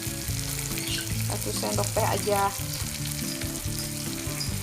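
Close, continuous sizzling of spices and petai beans stir-frying in a hot pan, with a brief spoken remark over the crackle.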